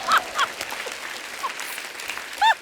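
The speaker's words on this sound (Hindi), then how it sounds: "जब मैं जीतता हूँ ना तो लोग ऐसे ताली बजाते हैं" Studio audience clapping on a comedy talk show set, a sustained applause wash with a few sharper whoops or honk-like accents rising above it.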